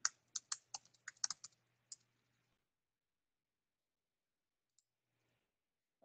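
A handful of quick, faint keystrokes on a computer keyboard as a password is entered, clustered in the first two seconds and followed by near silence.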